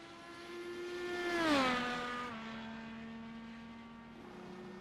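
Cadillac DPi race car in iRacing, its naturally aspirated 4.8-liter V8 at full song, passing with a rising then falling pitch as it echoes between turns 8 and 9 on a street circuit, a strong steady engine note with no talk.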